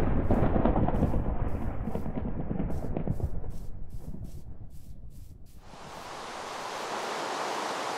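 Thunder rolls through a Minecraft thunderstorm: a loud, rumbling crash that fades over several seconds, after which steady hissing rain takes over.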